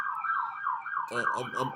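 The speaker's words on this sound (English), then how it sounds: "downtown right now, so it's sirens" Wailing emergency sirens ring through a downtown street, one steady rising-and-falling tone joined partway by a second, choppier pulsing siren, both loud and continuous with no talking.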